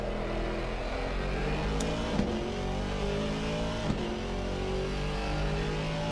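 Race car in a racing video game at the Zolder circuit, drifting around a corner, its engine held at a loud, steady high rev with layered harmonic whine and a couple of brief bumps.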